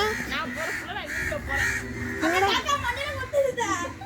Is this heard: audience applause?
no